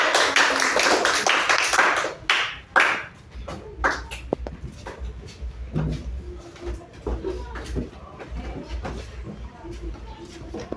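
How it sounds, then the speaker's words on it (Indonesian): Audience applause breaks out in a classroom session, a burst of clapping and scattered hand taps in the first few seconds that quickly thins into sparse claps and faint shuffling. "kita berikan aplaus dulu"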